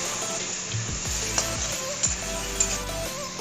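Green chili paste mixed in a bowl, giving soft repeated wet scraping and squishing strokes at a steady rhythm, close and moderately quiet with no talk.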